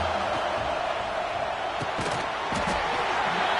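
A packed football stadium crowd roars continuously to urge on the home defense, a dense, loud wall of cheering with a few sharp peaks rising out of it.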